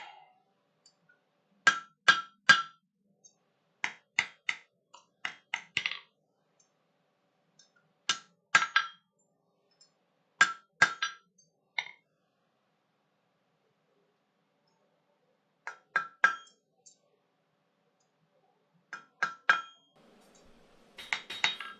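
Small metal pieces hammered on a double horn anvil, ringing in short clusters of sharp clinks and taps separated by quiet pauses, close and clear.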